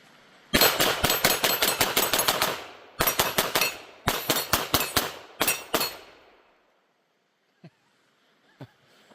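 Rapid bursts of .22 pistol fire from a Taurus TX22 shooting old Federal ammunition on a range: sharp, loud cracks in quick strings with short pauses, then a couple of faint clicks.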